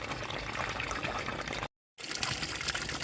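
Water from a holding tank where fish were kept for three or four days runs steadily into a fish-rearing pond, a broad continuous gush that breaks off briefly midway and resumes, with no talking.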